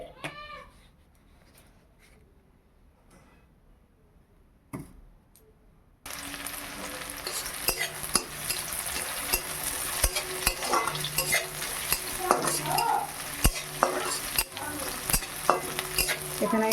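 Five-spice, onion and curry leaves hit hot mustard oil for a lentil dal, bursting into a loud, steady sizzle with stirring scrapes and clinks after a quiet opening.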